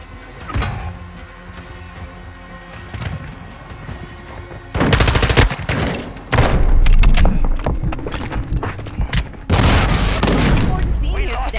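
Call of Duty: Modern Warfare II firefight with a flashbang grenade: loud, dense bursts of gunfire and booming blasts come in waves with short quieter gaps, under game chatter.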